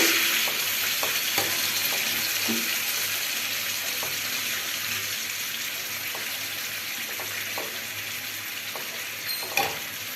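Hot water stirred into a flour and chilli mixture in a pan gives a continuous, close bubbling sizzle with faint scrapes and knocks of a spoon, steady throughout and a little louder near the end.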